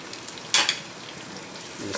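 Onions and green chillies drop into hot oil with a sudden loud sizzle burst that settles into a quieter frying hiss, then swells again briefly at the end.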